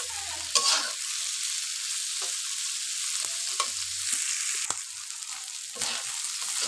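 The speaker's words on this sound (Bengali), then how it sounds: "পেঁয়াজের সাথে মাছটা একটু ভেজে নেব" Dried loitta fish frying with onions in a pan, a soft continuous sizzle broken by several scraping stir strokes at irregular intervals, fairly quiet and close.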